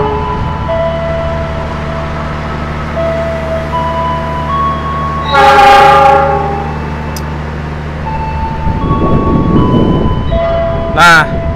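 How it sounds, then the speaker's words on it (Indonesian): A steady low rumble of the Argo Bromo Anggrek and Argo Lawu express passenger trains passing, punctuated by two sharp horn blasts and a surge of rushing noise near the end. "Nah, itu kan kereta api Argo Bromo Anggrek, dan itu tuh kereta api Argo Lawu tambahan"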